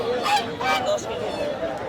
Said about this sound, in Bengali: এগুলা তো রাজাহাঁস